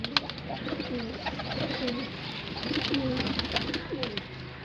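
A female pigeon coos repeatedly in low, rolling phrases, close by, over a soft background hiss.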